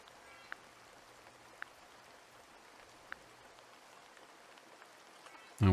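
Steady soft rainfall in the garden-building game Horticular, a quiet even hiss with a few faint isolated drip-like ticks, ending in an abrupt loud game sound.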